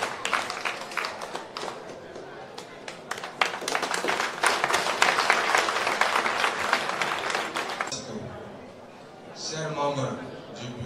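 Audience applause fills a hall at a school awards evening for parents and students, a dense sustained clapping for several seconds that fades as a voice begins speaking over a microphone.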